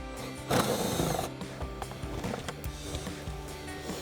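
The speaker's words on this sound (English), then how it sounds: "take my gun right here with a 10mm on it, and I'm going to get in here and remove this bolt" An impact gun with a 10mm socket removes a bolt from the center console of a 2009-2023 Dodge Challenger: a loud, short rattling burst, then quieter mechanical clicks and handling noises close by.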